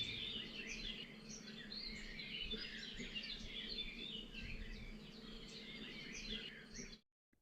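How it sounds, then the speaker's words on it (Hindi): A myna bird chirps in a cartoon, with busy, continuous twittering and tweeting over a soft background hum that cuts off abruptly near the end. "पंख फैलाकर चहककर उसने भगवान को प्रणाम किया और वह उड़ी"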